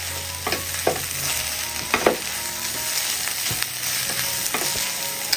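Spice powders fry in a hot pan while being stirred, giving a continuous sizzle broken by several sharp scrapes of the spoon against the pan.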